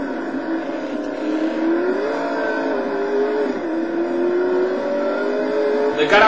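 Lister Storm race car engine in the Total Immersion Racing video game, a loud, continuous engine note that rises and dips steadily as the car works through corners, with no pauses throughout.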